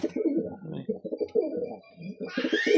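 A pigeon in a backyard pigeon loft gives a run of low, throaty coos close by, repeated in short pulsing bursts with a brief pause near the end.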